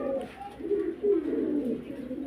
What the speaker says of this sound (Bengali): কি কবুতর ভাই এটা? এটা বুদাপেস্ট।